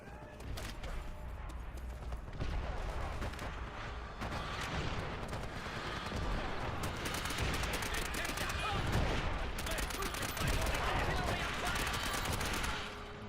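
Suppressed P90 fire in the video game World at War multiplayer, heard as steady, rapid, closely packed shots over a busy battle din that runs unbroken from start to finish.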